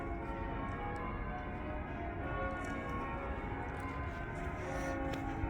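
Church bells ring steadily in the distance, layered over a constant outdoor hum with no voices.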